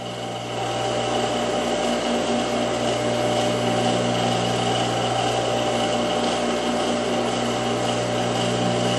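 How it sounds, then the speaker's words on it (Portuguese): A sewing machine stitches a ruffle onto a blouse, a continuous close mechanical whir with a steady hum and no breaks. "aqui eu vou costurar até a parte frente"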